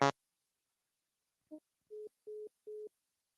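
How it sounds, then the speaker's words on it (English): A phone call's disconnect tone: a short click, then three identical steady mid-pitched beeps evenly spaced about a third of a second apart, clean and alone. "Uh-oh, my phone hung up."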